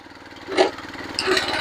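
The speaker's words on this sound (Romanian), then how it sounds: "Și de aici îi dăm drumul la partea de ambreiaj." A STIHL MH 600 tiller engine runs with its clutch engaged, a steady motor drone with bursts of rougher churning as the tines work the soil.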